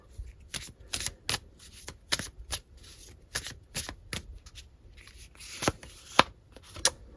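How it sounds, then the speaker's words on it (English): Tarot cards are shuffled by hand in quick, crisp riffles and taps, a series of short flapping bursts, close and fairly quiet. "I'm going to give these a shuffle."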